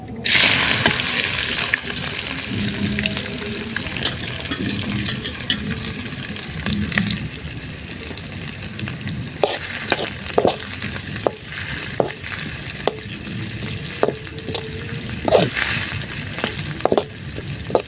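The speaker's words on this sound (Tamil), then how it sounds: "பிரிஞ்சி இலை பட்டை கிராம்பு ஏலக்காய் அப்படியே போட்டு கிண்டிப்போம் வெங்காயம் போட்டுப்போம் ஆனியன்" Onions fry in a pan with bay leaf, cinnamon, cloves and cardamom, a continuous close sizzle overlaid by a run of crisp spoon clicks and scrapes against the pan in the second half.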